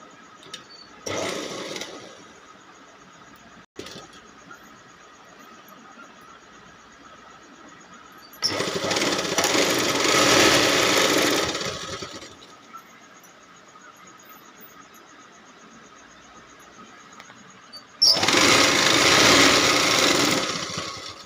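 A domestic sewing machine stitches a border strip onto a quilt made from an old saree, running in three loud bursts of rapid whirring clatter separated by quiet pauses with faint handling.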